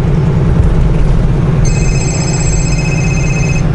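A telephone ringtone starts partway through and repeats steadily, playing inside a moving delivery truck over a loud, constant engine and road rumble.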